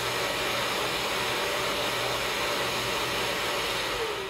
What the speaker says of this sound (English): The vacuum auto starts when you trigger the sander.